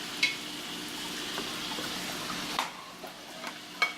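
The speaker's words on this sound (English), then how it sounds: "it's cooking up in there and it's starting to sizzle" Pork sizzling and crackling in a hot pan, a soft continuous hiss with occasional sharper pops and a clink or two, close but fairly quiet.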